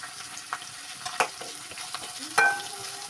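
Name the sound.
sautéing green chilies in a pan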